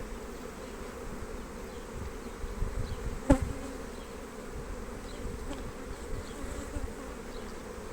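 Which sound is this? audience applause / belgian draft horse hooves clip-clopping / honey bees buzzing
honey bees buzzing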